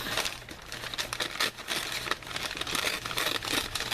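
Glued paper craft pieces are pulled apart with crinkly, tearing rustles in quick irregular bursts, close and fairly soft, with no talking.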